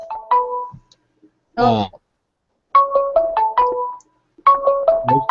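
A cell phone ringtone plays a bright repeating melodic tone pattern in three bursts, loud and close, with a brief voice interjection between rings.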